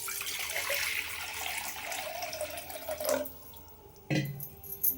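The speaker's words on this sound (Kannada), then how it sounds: "ನೀರು ಹಾಕ್ಯಂತೀನಿ ಅದಕ್ಕೆ" Water runs steadily into a pressure cooker for toor dal, a continuous splashing pour that stops near the end, followed by a brief clink.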